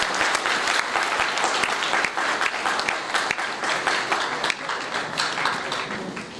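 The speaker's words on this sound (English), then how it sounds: "Ladies and gentlemen, please, a round of applause." Audience at a spiritual seminar in Goa giving sustained applause to welcome a speaker, thick continuous clapping from a large crowd, loud and even throughout, gradually easing toward the end.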